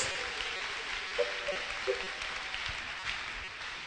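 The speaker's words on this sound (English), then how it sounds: "Clap your hands very well for the Lord Jesus Christ." A church congregation claps for the Lord during a testimony service, a continuous soft wash of hand claps heard from some distance, steady throughout with a few slightly louder claps and faint background voices.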